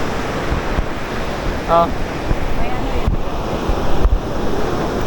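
Ocean waves wash onto a beach in a constant roar mixed with gusting wind across the microphone, while a voice briefly exclaims.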